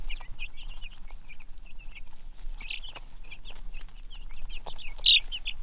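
Many small high chirps and peeps from a cluster of chicks in a brooder, continuous and close, with occasional louder cheeps over a faint background hum.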